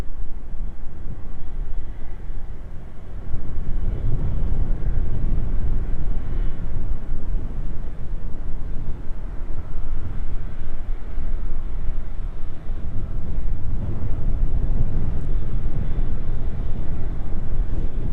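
A DHL Boeing 777 cargo jet taxis at East Midlands Airport, its engines a broad, steady distant rumble that rises and falls gently over a long stretch, with no talk.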